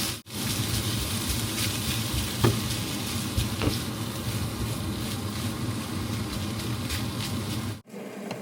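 Flavored meat frying in a pan, a loud continuous crackling sizzle with occasional sharper pops, broken by two brief dropouts, no voices.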